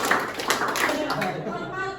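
A group claps in short counted bursts during a training session, sharp claps landing in quick sets while a leader's voice calls the counts over them.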